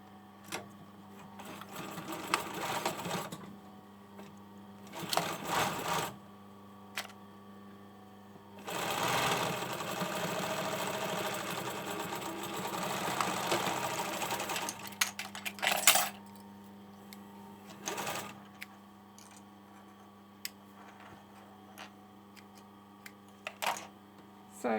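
A sewing machine stitches the shoulder seams of a hoodie sewn from a Burda 6315 pattern, running in several bursts of steady whirring, one long run and several short ones, separated by quiet pauses and small clicks.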